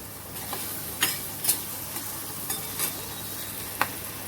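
Onion being sautéed with crushed green chilli in a pan for an ivy gourd chutney, soft sizzling under sharp irregular clicks and scrapes of a spoon stirring, close and fairly quiet.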